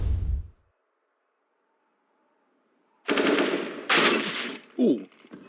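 Counter-Strike match gunfire: after a brief low burst and a long near-silent pause, rapid automatic rifle bursts crack out loud and close, two long sprays followed by a short final burst.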